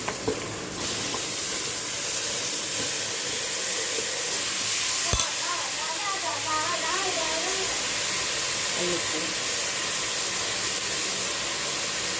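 Tomatoes drop into a hot pan and sizzle with a steady broad hiss, a faint clink of a utensil partway through, while a voice speaks softly over the frying.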